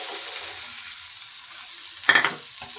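Onions fry in a pan toward golden brown, a faint, steady hiss of sizzling oil with one short stir or clatter near the end.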